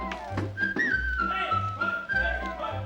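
A clear, sustained whistled melody over a bouncy musical accompaniment with a steady low rhythmic pulse.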